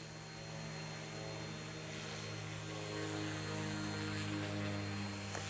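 An Eachine E160 RC helicopter flies nearby with a steady, tonal rotor and motor whine that swells slightly louder toward the end, with no voices.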